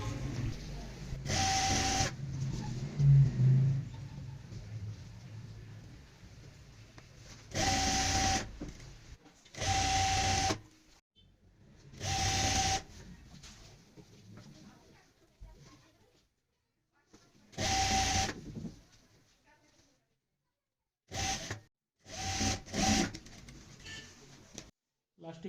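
Sewing machine stitching a round seam on a lehenga, running in several separate loud bursts of rapid mechanical whirring with quiet pauses between them.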